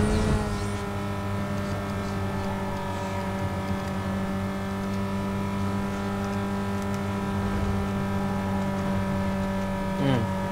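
In Need for Speed: Most Wanted, a car races at 270 km/h with a steady, loud, high-pitched engine drone that holds throughout, with a brief whoosh near the end.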